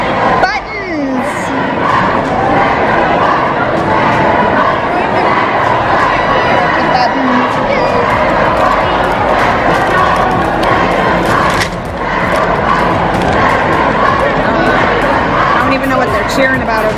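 Loud, dense crowd noise fills a busy Anthrocon 2019 convention hall, with cheering, chatter and scattered yips blending into a steady roar that holds for the whole stretch.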